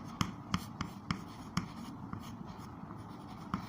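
Chalk or marker taps and strokes on a board during a maths lesson on angles, a series of short sharp clicks at irregular intervals, faint and close, with no talking.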